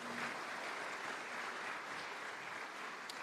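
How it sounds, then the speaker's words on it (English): A steady, even wash of applause from the audience at a tenth anniversary celebration, fairly distant and soft, holding constant throughout with no voices on top. "Round of applause, ladies and gentlemen, for Aruna Pojing"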